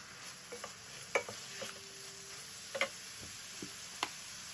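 Carrot and peas frying in oil with onions in a pan as part of Nigerian fried rice, stirred with a utensil; a quiet steady sizzle runs under sharp intermittent scraping clicks from the stirring, no talking.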